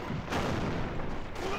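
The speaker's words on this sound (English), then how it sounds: "Yo, Pepe, look, I'm shooting the tank" Gunfire aimed at a tank in a Battle of Berlin video game on the Berlin Outskirts map, a dense continuous roar of shots and blasts filling the whole moment at steady loudness.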